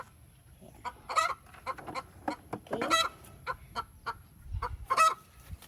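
Rhode Island chickens kept as brown-egg layers cluck repeatedly in short, close bursts with a few louder squawks, over a low rumbling background and no talk.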